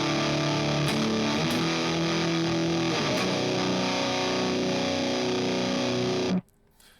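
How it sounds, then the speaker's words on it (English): Electric guitar played through a Rat distortion pedal, thick, chunky sustained power chords ringing continuously and loud, then abruptly cut off near the end, with no talking. "I did use the Raw, which is a rat distortion pedal"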